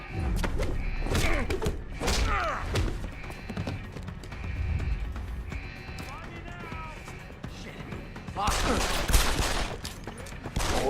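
Stun grenade blast and bursts of gunfire in the video game Deus Ex, a busy run of sharp cracks and thuds with a louder flurry near the end, mixed under game sounds and a talking voice.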